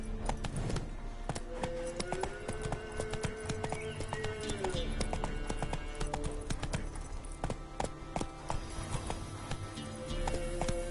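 Roach, a horse in the video game The Witcher 3, gallops with steady rhythmic clip-clop hooves under game ambience, with a brief whinny and other game sounds mixed in.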